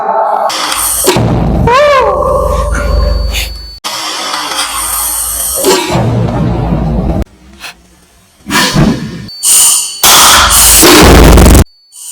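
A homemade plasma gun fires with loud crackling sparks and roaring bursts, and a clay pot blows apart in sharp, near, chaotic bangs separated by brief lulls, with no one talking.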